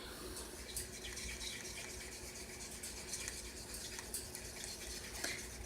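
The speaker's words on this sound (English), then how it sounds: "I'm going to add some water to this." Water trickling and splashing steadily into a thick acrylic paint and Floetrol mixture, a continuous close wash of liquid with no voices.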